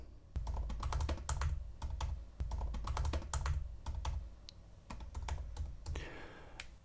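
Keystrokes on a computer keyboard clatter in quick, uneven bursts as text is typed, close and clear with brief pauses between runs of keys and no talking.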